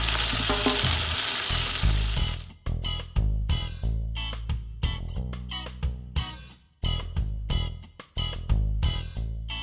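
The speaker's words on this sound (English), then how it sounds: "beautiful sizzle as I was pouring in that tamarind sauce there" Loud, hissing sizzle as tamarind sauce is poured over shrimp in a hot pan, followed by crackling frying with clattering stirring and scraping sounds.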